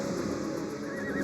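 A horse whinnies in a drawn-out call in the game Ark over a steady background of game sound, fairly close and loud, with no voices.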